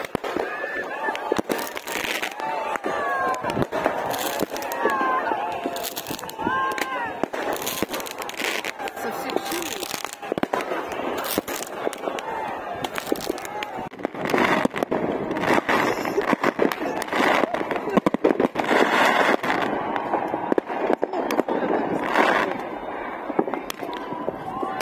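Outdoor New Year's Eve fireworks over Kazan crackle and pop in dense, continuous bursts, with voices talking and shouting throughout.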